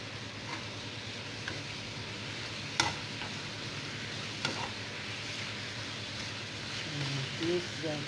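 Spring roll vegetable filling with curry powder being stirred in a pan, a soft steady frying sizzle with a couple of sharp utensil clicks, a voice speaking faintly underneath.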